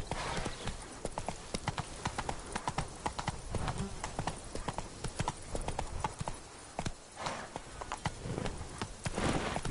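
Hooves of Roach the horse from the video game Witcher 3 Blood and Wine pounding in a quick, steady gallop rhythm, clear and close, with a brief voice mixed in.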